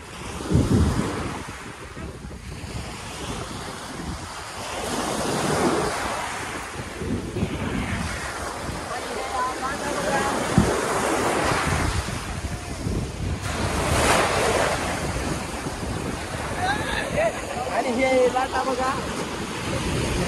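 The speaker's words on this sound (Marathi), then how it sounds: "आणि हे लाटा बघा इकडच्या।" Sea waves roll in at a Mumbai beach with murky, sewage-fouled water, surging and washing loudly in repeated swells under heavy wind buffeting.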